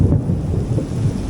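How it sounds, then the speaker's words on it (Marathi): Thunder rumbling during the first monsoon downpour in Mumbai, a loud, sustained low roll over steady rain. "आवाज ऐकला असेल की विजांचा आवाजसुद्धा जोरात कडकडायला लागलेला आहे"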